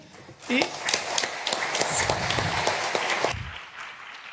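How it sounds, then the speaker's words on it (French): An audience at a solar thermal energy conference applauds a speaker, a brief burst of scattered claps that swells then fades within a few seconds, heard close, with a voice briefly over the start. "on peut vous applaudir"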